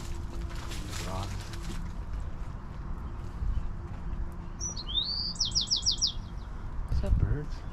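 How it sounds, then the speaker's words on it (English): A bird in a hillside cemetery gives a quick, bright series of chirps midway through, over steady outdoor background noise with people talking nearby. "Is that birds?"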